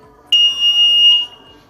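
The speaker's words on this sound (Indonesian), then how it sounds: "Terdengar suara buzzer berbunyi selama 1 detik" A steady, high-pitched electronic buzzer on an automatic coffee bean dryer beeps once for about a second, loud and close.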